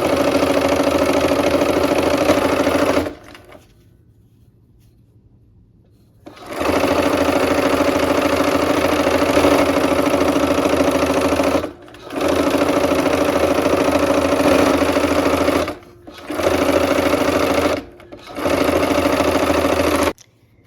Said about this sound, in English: Okay, we'll sew the apple blocks.